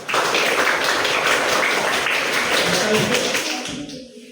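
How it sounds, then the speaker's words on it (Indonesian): An audience claps together for about four seconds, a dense, loud burst of applause that fades out near the end. "Tepuk tangan."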